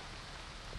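Rain falls steadily at a harbour dock, a dense, even hiss of drops with no voices, fairly faint and continuous throughout.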